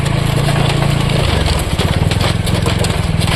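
A motorbike rolls slowly along a rough riverside track, its engine a loud, close, steady low putter with rhythmic pulsing and some rattling and gravelly crunch throughout.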